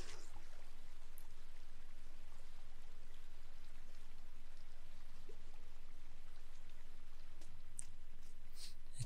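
Steady rain falls in the video game Inside, a constant, fairly quiet hiss of drops with a few sharper splashes scattered through it, no voices.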